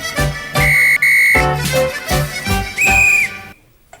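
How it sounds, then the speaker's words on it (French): Several loud, shrill whistle blasts, some short and some held, are blown to get a room to fall silent, with brief gaps between them and quiet at the very end. "quand le sifflet n'est là que pour ça, que pour obtenir un peu de silence"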